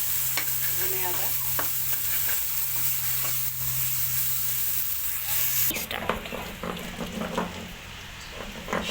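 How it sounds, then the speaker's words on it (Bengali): Coriander frying in a pan gives a steady, close sizzle with a low hum beneath, then stirring scrapes and clatter take over partway through. "এভাবে ভেজে নিলে বাটতে সুবিধা হবে ধনিয়াটা।"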